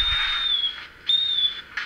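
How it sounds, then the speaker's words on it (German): A German Reichsbahn (DDR) conductor's whistle from the sound decoder of a Gützold class 65 TT-scale model locomotive gives two clear, shrill, steady blasts, close and alone. "Wo mir der Henning noch gesagt hat, dass das der richtige Deutsche Reichsbahn, der DDR-Schaffner-Pfiff wäre, genau."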